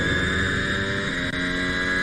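Formula 1 cars with Ferrari and Honda engines roar continuously at the British Grand Prix practice, a dense, steady high-pitched engine drone with no pauses.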